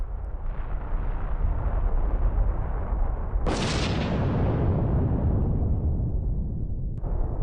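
Sakurajima volcano in Japan erupting, a dense continuous roar of rumbling blast noise with a sharp, louder explosive surge partway through that slowly fades back into the heavy low rumble.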